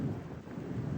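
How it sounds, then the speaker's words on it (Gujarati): A low, steady thunder rumble rolls through a rainstorm in Tifton, filling the brief moment as a continuous dull roar with no voices. "આ કડાકા ને ભડાકા જો તમને સંભળાય છે,"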